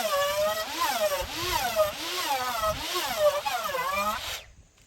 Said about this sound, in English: what he's using here is a Makita 3¼ horsepower plunge router